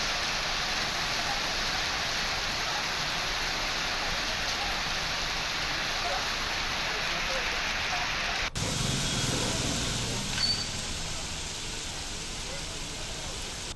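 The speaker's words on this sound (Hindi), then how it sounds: "भीलवाड़ा में जोरदार बरसात।" Heavy rain pours steadily in Bhilwara, a dense continuous hiss of downpour with a brief knock partway through and the rain carrying on alone.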